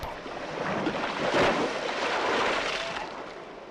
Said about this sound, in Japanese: 波が船腹を叩く音、